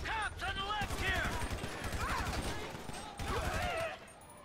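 Rapid bursts of automatic gunfire crackle during a heist mission in the video game GTA V, repeated shots in quick rhythmic runs, with in-game voices talking over much of the firing.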